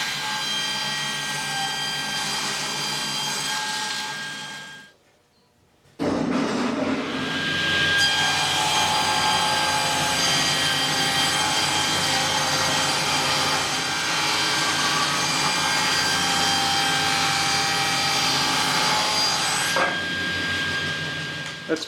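Power saw cutting a walnut board to size in a woodshop, a loud sustained whine that drops out briefly near the start, then resumes and runs steadily for most of the cut with no talking.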